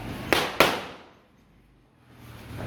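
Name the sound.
firecracker bursting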